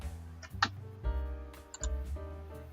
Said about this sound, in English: I hear you typing.